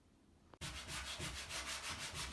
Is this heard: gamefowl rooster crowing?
no